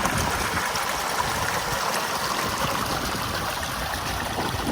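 Steady rushing of flowing water, like a stream running continuously close by, with no pauses and no voices.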